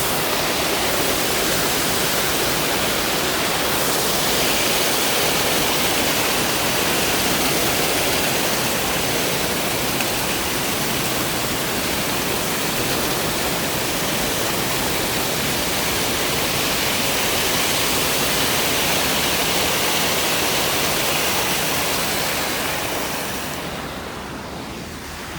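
A river runs near its mouth at Lake Superior, on the North Country Trail between Grand Marais and Tahquamenon Falls, giving a loud, steady broadband rush of fast water that holds constant throughout and eases slightly at the very end.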